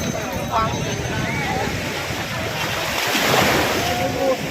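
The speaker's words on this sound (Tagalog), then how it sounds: "Ang lakas ng alon mga kanayo, no?" Loud, steady rush of surf and crashing strong waves at Patar White Beach, Bolinao, Pangasinan, with wind buffeting the microphone throughout.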